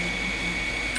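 A printer runs with a steady mechanical hum, a constant high whine and low fan drone, continuous and even throughout, ending with a brief brighter hiss.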